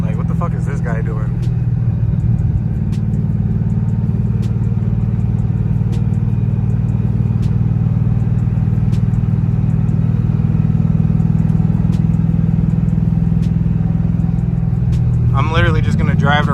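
A New Edge Mustang with a swapped 3V engine drives around a neighborhood, its steady low engine drone continuous and fairly loud throughout, with someone talking briefly at the start and end.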